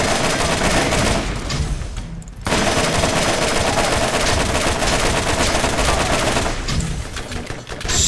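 Loud, sustained machine gun fire in Borderlands, rapid continuous bursts broken by a short pause partway through before resuming at full intensity.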